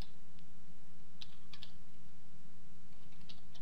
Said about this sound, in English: So I'm going to go ahead and type in my username